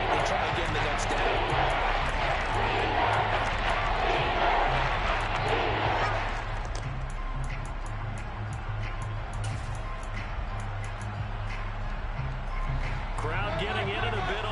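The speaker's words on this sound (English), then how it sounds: "Crowd getting in it a bit already" Stadium crowd noise from a Madden 23 Saints versus Buccaneers football game, a broad steady roar that swells loudly for several seconds and then settles into a lower background murmur.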